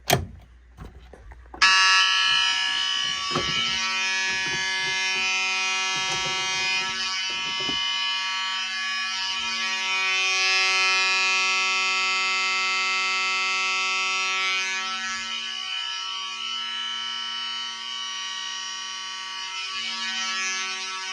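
A fire alarm blares continuously after a brief click and scrape, a loud, harsh electronic horn that holds steady for many seconds.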